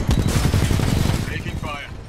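Rapid automatic gunfire from a Titanfall 2 firefight, dense bursts of shots close and loud throughout, with brief synthetic radio-like tones from the game in the latter half.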